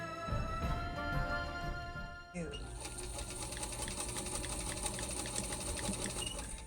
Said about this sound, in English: I will show you on the sewing machine